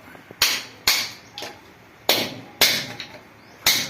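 Sharp metallic hammer strikes on a flat screwdriver chipping out old bathroom floor tile, about six irregular blows with brief scraping between them, close by.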